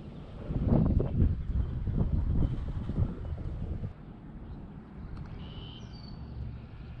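Wind blows outdoors at a cold-water fishing spot, a loud buffeting rumble across the microphone that eases after a few seconds into a softer steady rush.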